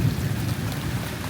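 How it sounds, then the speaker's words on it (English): Rain falls steadily on an autumn Thursday evening during a thunderstorm, a dense, constant wash of drops that fills the space, with no voices. "we're getting some much needed rain."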